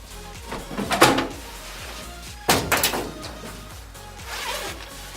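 A door is opened and closed, with two distinct thudding bumps a couple of seconds apart and some rattling handling noise, moderately close.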